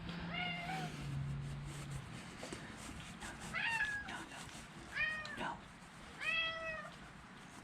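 A cat meows four times in drawn-out, rising cries, fairly close and clear, in a workshop while a 1978 Shovelhead motorcycle is being worked on, with a low hum and a brief voice early on.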